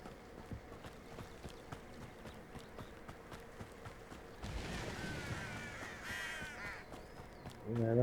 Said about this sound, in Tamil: காக்கா சவுண்ட்லாம் கேட்க